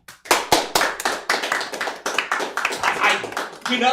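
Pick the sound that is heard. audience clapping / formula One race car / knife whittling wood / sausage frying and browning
audience clapping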